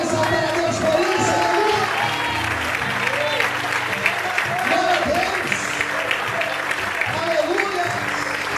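A church congregation applauds during a sermon, a sustained wash of clapping filling the room while a voice speaks over it.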